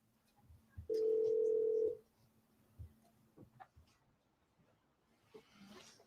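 A steady telephone dial tone sounds for about a second during a played phone call, clear and loud against faint background murmur and scattered small noises.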